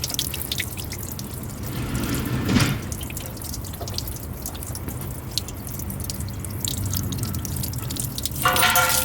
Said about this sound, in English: the water is going out through the hole.